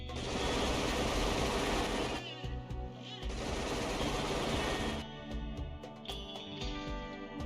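Turrets firing in RimWorld: loud sustained bursts of rapid automatic gunfire, a pause, then another long burst followed by scattered single shots.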